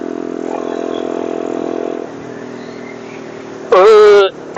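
A Yamasaki YM50 motorcycle idles with a steady drone, then briefly revs hard for a loud, rising burst near the end.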